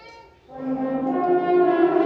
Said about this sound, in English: Can we do the second ending and hear your trill, euphonium ones?